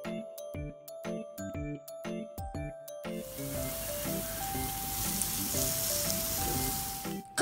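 Lightly sauced Korean chicken thigh sizzles on a rotating Korean barbecue grill at a semi-buffet restaurant in Causeway Bay, Hong Kong. A few bright chime-like tones sound first, then a steady, close, crackling sizzle carries on with no talking.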